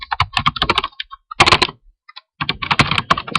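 Close, loud typing on a computer keyboard while an HTML tag is entered, coming in quick bursts of keystrokes separated by short pauses.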